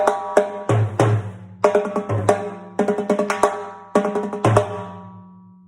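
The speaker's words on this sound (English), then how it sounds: "put those last 2 hits on the rim. Make them rim shots." Timbales played in a lesson pattern: sharp, bright metallic strikes and rim shots with quick right-hand drag ornaments, ringing shell tones between hits, several grouped phrases in a loose rhythm, close and clear with no talking.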